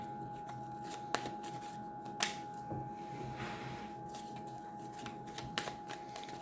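Tarot cards are shuffled close by with repeated soft riffling and sharp snaps at uneven intervals over a quiet background.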